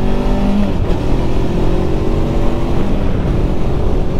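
A Voge 525 DSX adventure motorcycle accelerating on the road: a loud, steady engine roar that builds continuously for several seconds, with no talking over it.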